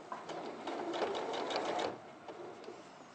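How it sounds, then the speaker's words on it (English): A sewing machine stitches fabric bibs together in a rapid, steady whirring run for about two seconds, then slows to a few scattered stitches. "And then I will sew the bibs together and bag them out."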